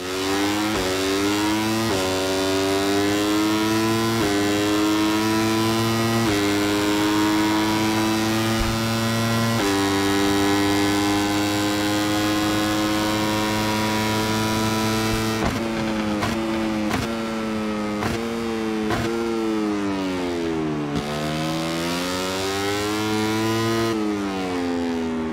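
Racing motorcycle engine in the MotoGP 24 video game at Sepang, a loud sustained high-pitched whine that holds steady, then revs and shifts through rapid gear changes with pitch dips and climbs, no talking.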